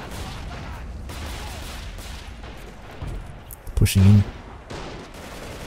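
MG42 machine guns in Men of War: Assault Squad 2 chatter through a dense battlefield din, with a louder burst of fire and explosions near the end, under brief talk.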